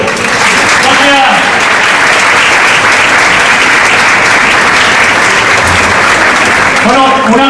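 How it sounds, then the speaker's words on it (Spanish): Loud, sustained applause from the audience at the Club Universo Extremeño awards gala in Zaragoza, honouring the club's directors, with voices and cheers audible over the continuous clapping. "Fuerte aplauso para ellos"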